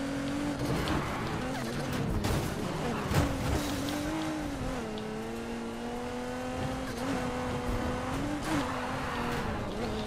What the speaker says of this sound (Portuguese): Ronco lindo, né, mano, aventador.